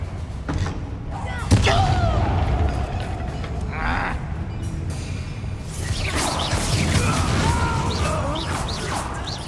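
Booming blasts from the Confringo fire spell and other combat effects ring out in a Harry Potter game, several loud explosive bursts over continuous battle noise, with a voice speaking among them.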